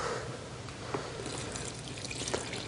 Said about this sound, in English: I'm just going to add the rest of this water.